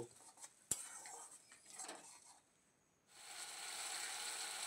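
Salt paste with ground green chili and mustard being stirred in a wok, with soft scraping and clinking of a utensil against the pan, one sharp clink early, and a steady hiss rising toward the end.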